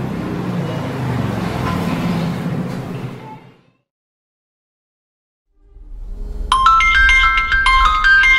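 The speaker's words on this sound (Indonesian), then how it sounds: "Telepon tuh, Nya." A mobile phone rings in a home, its bright melodic electronic ringtone cutting in loudly near the end after a burst of background noise and a brief total silence.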